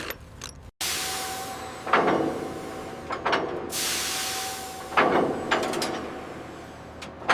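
Ratchet tightening the last bolt on a housing during railway bridge construction in Japan, heard as a few bursts of clicking at close range amid mechanical clatter and steady background noise.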